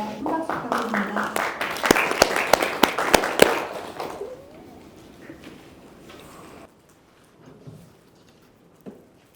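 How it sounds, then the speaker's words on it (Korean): Applause from a forum audience at a Korean panel discussion on North Korea, a dense patter of many hands that fades out after about four seconds, leaving quiet room sound and faint movement. "큰 박수 부탁드립니다."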